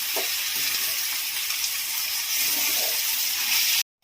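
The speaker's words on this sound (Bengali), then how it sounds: "আর এটা একটু হালকাভাবে ভাজা ভাজা করে নেব।" Turmeric-coated Dehradun rice being lightly fried in a pan makes a steady, close sizzling hiss that runs unbroken and then stops abruptly at the end.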